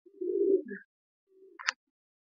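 High-flying pigeons kept at a home loft in Bagerhat give a soft, close coo, then after a brief pause a shorter low coo ending in a sharp brighter note, against near silence.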